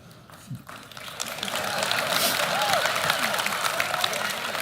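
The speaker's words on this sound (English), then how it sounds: "why are they clapping?" An audience at a talk on dating breaks into sustained clapping that swells to a steady, dense patter of many hands and continues to the end.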